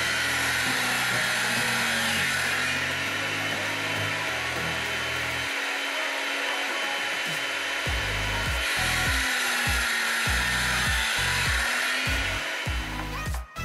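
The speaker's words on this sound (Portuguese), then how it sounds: "E cortei duas peças de 8 cm." Plywood pieces about 8 cm long being cut for a homemade camera slider, the saw running steadily as a broad, rasping tone with rhythmic strokes near the end and a short pause midway.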